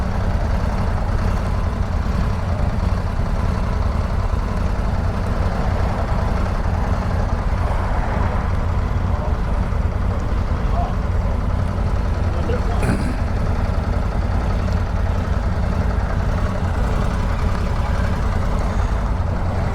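Indian Scout motorcycle engine idling at a demo day, a steady, close low rumble with a constant throb that holds unchanged for about twenty seconds.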